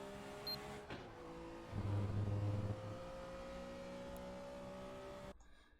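A BMW M1 Procar in a racing video game hums at a steady engine pitch, swelling briefly as the throttle opens and then easing off, with the tone holding at a constant drone before cutting out abruptly at the end.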